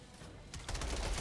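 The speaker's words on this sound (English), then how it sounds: "Mammoth SMG." Rapid bursts of Mammoth SMG gunfire in the video game Outriders swell louder in the second half, a dense continuous rattle of shots with no talk over it.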